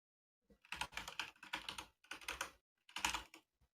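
A computer keyboard being typed on to send a Discord chat message, heard as four quick bursts of close, clattering keystrokes separated by short pauses, with no talking.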